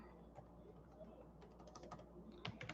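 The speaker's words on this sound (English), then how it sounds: "I'm just typing out all the stuff here." Keys typed on a computer keyboard, a steady stream of quiet clicks rising to quicker, sharper bursts near the end, faint and close against a low background hum.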